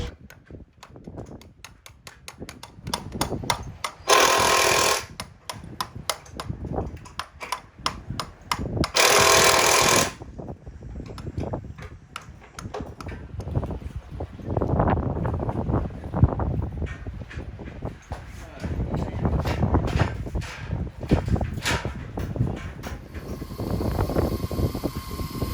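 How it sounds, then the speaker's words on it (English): A power drill hooked to a 14K boat lift winch whirs in repeated bursts as it winds cable onto the drum, with rattling and ticking between runs and two louder, steady spells of whine. "we go ahead and hook our drill up to the winch to get the cable wound up properly"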